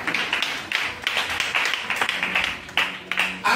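A church congregation claps in rapid, uneven bursts, a busy patter of hands at moderate volume with no voices over it.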